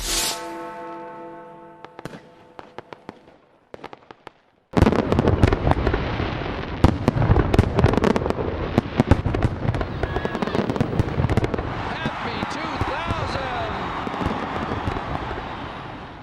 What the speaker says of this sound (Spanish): Con los primeros fuegos artificiales en Australia, el mundo recibió el nuevo milenio.